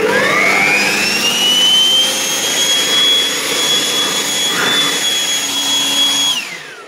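A 3500W electric dust blower with a brushed motor runs loud and close, a steady high whine with a rising pitch at start-up that holds for several seconds before winding down at the end.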